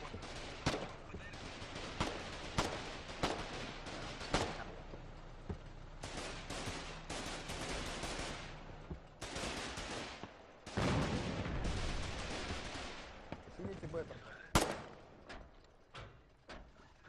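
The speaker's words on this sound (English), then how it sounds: "Seeing the artillery piece from the Russian side now opening up as well" Artillery fire in a war video game, a scattered series of sharp booms and blasts at irregular intervals, some distant and some close, over a low background rumble.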